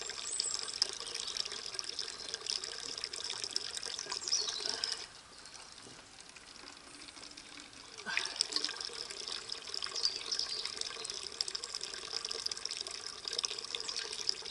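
Water runs steadily from a tap into bottles being filled, a continuous close rushing hiss that briefly drops in level midway and then returns.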